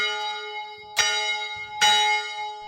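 An old fire station bell, pulled by a rope from the roof, rings twice: two bright metallic strikes about a second apart, each leaving a long, ringing tonal decay.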